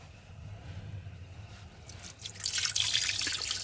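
Water drains out of a diesel tank through a hose valve, a steady faint trickle and drip that swells into a louder gush toward the end, with no talk over it.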